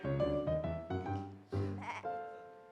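A goat bleats repeatedly in quick, wavering cries, close and loud, several calls running together over a few seconds.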